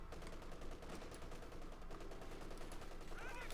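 A German MG-34 machine gun in Company of Heroes 2 fires in a faint, rapid, continuous rattle beneath low background battle noise.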